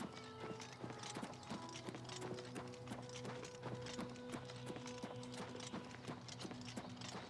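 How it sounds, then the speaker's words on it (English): Rapid clip-clop of horse hooves in The Elder Scrolls IV: Oblivion runs throughout over a steady background of music-like tones, fairly even in rhythm and quiet overall. "Horses!"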